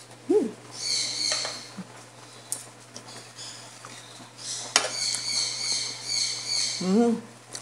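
High-pitched bird calls sound from overhead, birds perched around a third-floor height, with bright chirping bursts near the start and again around the middle and end, over a faint steady background hum and a few light clinks.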